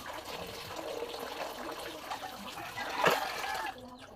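Tap water runs steadily as food for kinilaw is washed, with a brief louder splash near the end before the flow cuts off; the sound is fairly faint and close.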